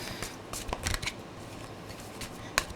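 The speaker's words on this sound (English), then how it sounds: "if I'm shuffling and multiple cards come out, I'm just going to keep shuffling" Tarot cards are shuffled by hand in a quiet room, soft papery riffles and flicks in short bursts, close and fairly faint, with a sharper snap near the end.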